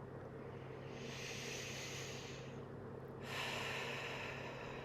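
Slow, audible breaths during a morning yoga session: a long airy inhale, then a brief pause and a louder, forceful exhale, close and unaccompanied by speech.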